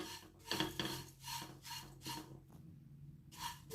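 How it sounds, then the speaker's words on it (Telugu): Flattened rice (poha) being dry-roasted in a pan, making soft repeated raspy scraping and rustling strokes as the flakes are stirred, moderately close with brief pauses between strokes. "అటుకులు వేసి దూరగా వేయించుకుందాం."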